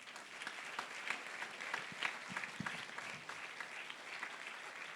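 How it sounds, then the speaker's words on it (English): A concert audience at The Oral School for Deaf Children's Diamond Jubilee applauds in a dense, even wash of clapping that sounds faint and distant, holding steady for the whole stretch with no voices on top. "Audience, can we have a round of applause for them?"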